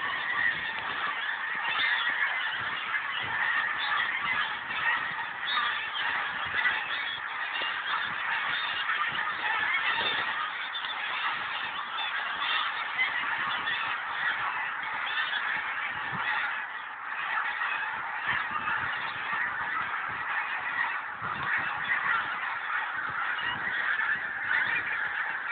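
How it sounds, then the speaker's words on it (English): A vast flock of thousands of geese honks continuously in open country, a dense, distant-sounding wall of overlapping calls that never pauses, with no talking. "Thousands and thousands and thousands of geese."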